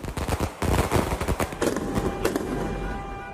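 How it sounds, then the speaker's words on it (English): Fireworks burst in the night at Pele's homecoming, a loud dense volley of rapid crackling bangs and pops that blur into a continuous roar, echoing and tapering slightly toward the end. "Fireworks to celebrate a great life and to mark his homecoming."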